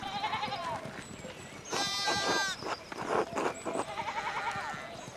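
Sheep bleat in the video game Pentiment, several close, wavering cries in a farmyard scene, one long bleat in the middle and others overlapping amid clattering game sounds.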